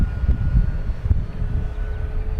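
An FMS Corsair 1700mm radio-controlled warbird drones at full throttle through a turn near a windsock, a steady low engine roar held at moderate distance throughout.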